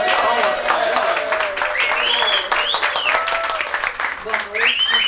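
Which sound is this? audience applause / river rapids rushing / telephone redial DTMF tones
audience applause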